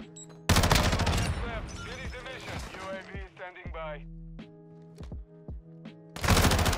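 Gunfire rattles in a first-person shooter game, with loud bursts at the start and end. Someone talks over the shots in between.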